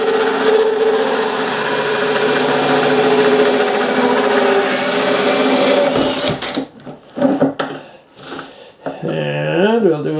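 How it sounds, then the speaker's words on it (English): Power drill running in reverse against a plastic gutter downspout, a steady whirring buzz for about six seconds before it stops and a voice takes over. "if you run it in reverse, it's not going to drill the hole very good. So we'll just put that in reverse."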